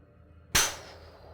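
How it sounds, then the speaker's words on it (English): An animated wall-break explosion set off by a sticky grenade in a 3ds Max effect demo bursts out as a single sharp blast, then a short fading rumble. "we have a huge wall break explosion after a sticky grenade hits the wall"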